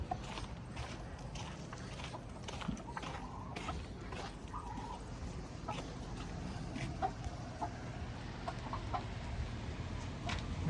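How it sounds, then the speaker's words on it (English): Baby chicks, turkey poults and bantams in a barn, with scattered faint peeping and clucking over a steady fan hum and light shuffling. "a few of our little baby poults and baby chicks, some bannies and such"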